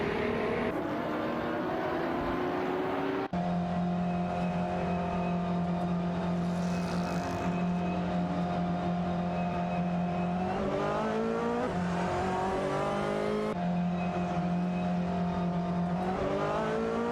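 Race cars in a video game, a Renault Sport RS1T and an Alpina B6, hold a loud, continuous engine drone that rises and falls in pitch with gear shifts and acceleration for the whole stretch.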